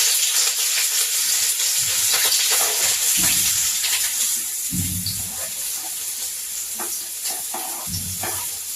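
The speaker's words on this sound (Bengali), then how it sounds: "এবারে আমি পেঁয়াজ কুচিগুলো ছেড়ে দিলাম।" Chopped onions hit hot oil flavored with kalo jeera (nigella seeds) on a clay stove, giving a loud, close sizzle that settles into steady frying with intermittent stirring scrapes and no speech.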